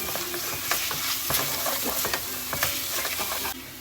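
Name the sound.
stirring and frying crushed garlic with onion and chicken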